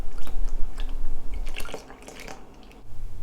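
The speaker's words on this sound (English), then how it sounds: "Now add the coconut milk" Coconut milk pouring onto dry ingredients in a mixing bowl, a short run of soft wet drips and splashes up close, fading out toward the end.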